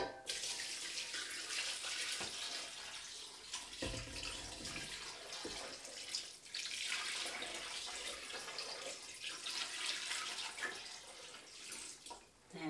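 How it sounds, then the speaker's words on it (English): Rainwater from a garden water butt poured gently from a pan, a steady close trickle and splash of water running continuously with small fluctuations. "very, very gently"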